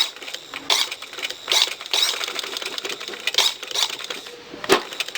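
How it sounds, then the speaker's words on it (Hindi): A sewing machine runs in short bursts as it stitches cut pieces of trouser fabric together, with a clattering, mechanical, fairly close rhythm and occasional sharper knocks, no talk over it. "अब हमने जो ये हमने काटे थे इसको हमने इस तरह से सिलाई के साथ सिलाई करते जाना है।"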